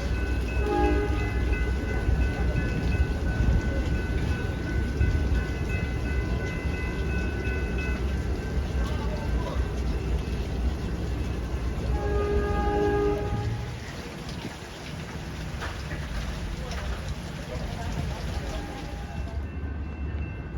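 Amtrak Wolverine 355 passenger train bound for Chicago, with Horizon cars, rumbling past at close range: a loud, continuous roar of wheels and rails with sustained horn-like tones layered in, easing slightly toward the end.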